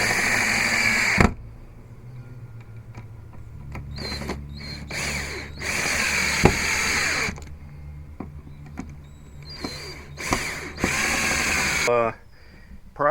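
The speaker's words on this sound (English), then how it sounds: "Pre-drilled all the holes. Now I'm ready to put the screws to it." A power drill drives screws into pre-drilled holes in repeated whirring bursts, stopping and starting between screws, close and loud, with brief clicks and handling noise in the gaps.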